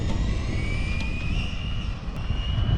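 A Traxxas Rustler 2WD RC car running at half throttle, its electric motor giving a steady high whine that slowly rises in pitch over continuous rumbling wheel and ground noise, close by.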